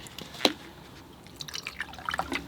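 Fresh water pours into a container used for rinsing oil-painting brushes, giving one sharper splash near the start and then a scatter of soft, quiet drips and trickles with no talking.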